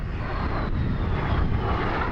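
A Canadair CL-30 Silver Star (T-33) jet in Royal Canadian Air Force markings, powered by a Rolls-Royce Nene 10 turbojet, roars loud and steady overhead at a Coventry airshow.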